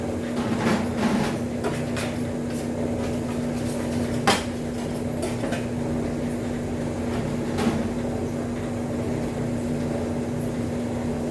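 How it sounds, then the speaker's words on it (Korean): A dough machine mixes flour while chopping chives, giving a loud, steady mechanical whir with a low hum and scattered knocks and clatters throughout. "기계가 다 그 부추를 절단 작업을 해주고 있습니다."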